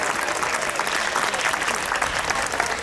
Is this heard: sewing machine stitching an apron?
no